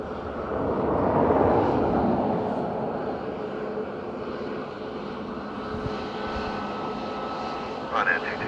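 An airliner on final approach to Dublin Airport's runway 28 left on a windy morning. A broad, roaring engine rumble swells early, then holds steady and fairly close under radio talk between the tower and a pilot.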